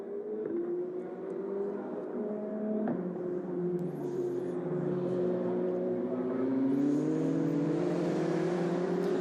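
Formula Regional race cars scream around the Barcelona-Catalunya circuit, a continuous loud engine drone rising and falling in pitch as cars accelerate and pass, with gear shifts and several overlapping engines, heard without commentary voices.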